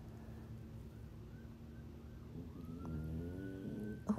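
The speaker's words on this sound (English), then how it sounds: "I hear a siren." A faint, distant siren wails with a slowly rising and falling tone beneath low background hum, ending with a couple of soft knocks.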